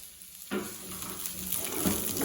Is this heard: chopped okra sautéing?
yes